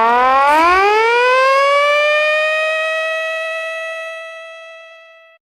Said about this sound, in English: you'll get an idea how a siren works